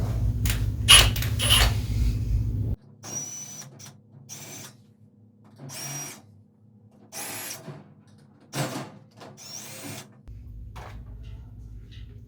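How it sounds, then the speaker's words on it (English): A screw gun backs four fasteners out of the grill of an IsoClean air purifier, heard as several short, fairly loud whirring bursts separated by pauses, after a steady low mechanical hum at the start. "I'll use a screw gun to remove the four fasteners holding the grill on."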